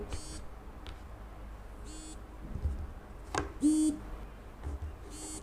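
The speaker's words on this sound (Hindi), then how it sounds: "जब वॉच वाइब्रेट करती है तो एक अजीब सी बीप सी आवाज़ आती है" A Realme Watch 2 Pro vibrates in short repeated bursts, each with a faint buzzy beep, four or five pulses spaced about a second or more apart over quiet background noise.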